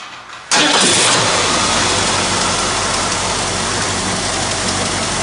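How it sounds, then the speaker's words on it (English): After a quiet moment, a car engine, a 302 cubic inch unit started by arcing across the starter, abruptly bursts into life and settles into a loud, steady running roar close by. "This will start the car to turn over, and if you don't have this green wire, it will not stop."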